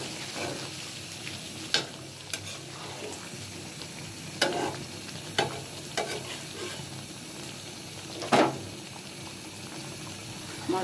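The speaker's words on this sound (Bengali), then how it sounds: "দিয়ে দিচ্ছি কিছু কাঁচামরিচ।" Green chillies drop into a pan of frying egg-laden carp fish dopiaza, with a steady close sizzle and bubbling punctuated by several stirring knocks and scrapes.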